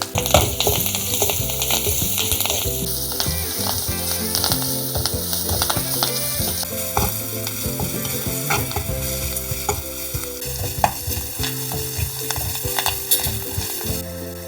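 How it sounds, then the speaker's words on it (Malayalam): Crushed ginger, garlic and curry leaves sautéing in hot oil with popped fenugreek and mustard seeds for Kerala fish curry: an even, continuous sizzle with stirring scrapes, steady and close, with music running underneath. "അതിലേക്ക് ചതച്ചു വെച്ച ഇഞ്ചി, വെളുത്തുള്ളി പിന്നെ കറിവേപ്പിലയും ചേർത്ത് വഴറ്റുക"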